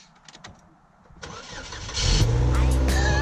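2003 Saturn L200 with a newly replaced exhaust cranks briefly and catches, then settles into a loud, steady, close-up idle.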